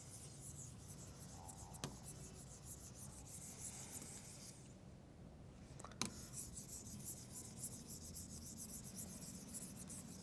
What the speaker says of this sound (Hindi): तो ये इरेज कर देता हूं मैं